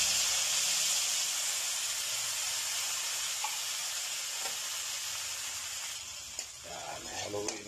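Sardines and egg are sautéed in a hot pan, making a steady, fairly loud sizzling hiss that runs throughout, with a few clinks and stirring noises near the end.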